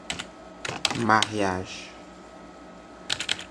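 A computer keyboard being typed on in short bursts of crisp, close key clicks, with someone speaking between the bursts.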